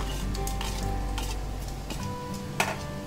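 Whole spices and mutton pieces sizzle in a hot pan, a continuous close frying hiss with faint stirring and one small clink near the end.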